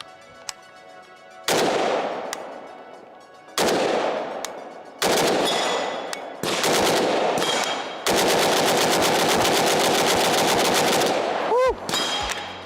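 A 5.56 AK rifle fires outdoors at close range: a couple of single loud shots, then rapid bursts and a long sustained string of automatic fire, each with ringing echoes.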